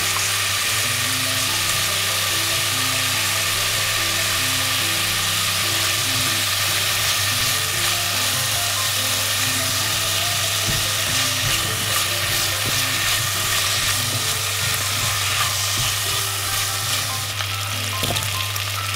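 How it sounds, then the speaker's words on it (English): Lotus root fries in a pan with a steady, close sizzle, joined by a few stirring scrapes and clatters, and no voices over it. "Fry lotus root."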